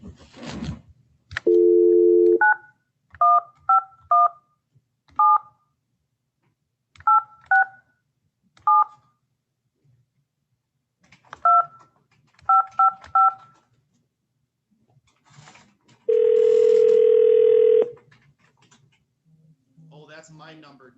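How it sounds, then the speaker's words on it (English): A phone number is dialed by keypad: a steady tone, then short paired-tone beeps in quick clusters with gaps between them, ending with a longer sustained tone. The sounds are clear and close, with a faint voice near the end. "I'm going to try to dial your phone number that's listed on some of the paperwork here."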